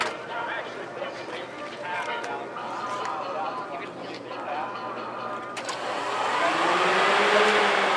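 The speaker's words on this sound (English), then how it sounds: "Fans are coming on." Electric cooling fans on a 1966 Mustang Pro-Street with a 1400 HP engine switch on, a whooshing whir rising and swelling near the end over a steady mechanical hum, close and moderately loud, with no talk.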